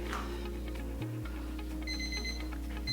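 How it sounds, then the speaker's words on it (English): A repeating electronic alarm beeps steadily over a low, constant hum, the tones pulsing in a regular pattern throughout without any talking, heard indoors during a home Pilates workout. "My alarm's gone off"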